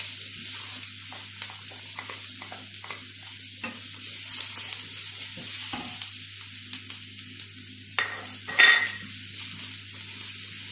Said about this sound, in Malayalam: ഇനി ആ എണ്ണയിലേക്ക് ഒരല്പം ജീരകം ഇട്ട് കൊടുക്കാം. ജീരകം പൊട്ടുമ്പം